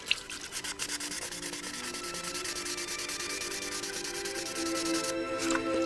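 An aluminum motorcycle part is sanded by hand in quick, rhythmic back-and-forth rubbing strokes, a close, gritty scratching that continues steadily and grows slightly louder toward the end.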